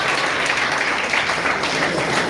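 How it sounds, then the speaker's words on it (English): A seated audience applauds at an engineering innovation event, with dense, steady clapping from many hands filling the room. "Can we give her a round of applause?"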